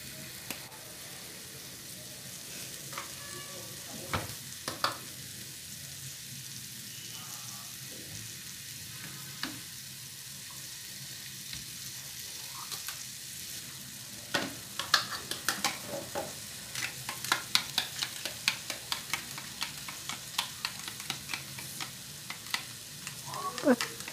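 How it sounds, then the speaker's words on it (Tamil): Four slit green chillies fry in oil for a rice cooker biryani, a low continuous sizzle with occasional stirring taps, building to busier crackling and clinks of a spoon near the end, close-up with no talking. "அதோட 4 பச்சை மிளகாவை நடுவால் பிளந்து போடணும்."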